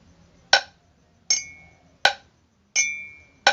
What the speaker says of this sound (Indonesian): Misalkan Pak Yadi pakai gelas dan pakai kentongan.